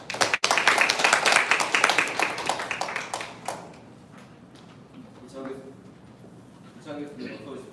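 Hall audience clapping to welcome a professor to a lecture, a burst of many hands loud at first then fading out after a few seconds, followed by a voice speaking over quiet room tone.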